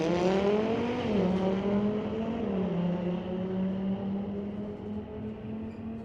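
An Audi street-legal drag car races down the strip at Mission Raceway Park's Friday night street legal drags, its engine a loud, sustained roar with the pitch climbing through gear changes before slowly fading away.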